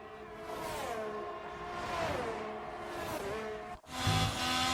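Formula 1 cars from the F1 video game race around the Australian Grand Prix circuit, engine tones rising and falling continuously as cars pass close, with a brief dropout before the roar returns loud.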